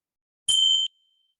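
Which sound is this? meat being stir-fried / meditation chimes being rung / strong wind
meditation chimes being rung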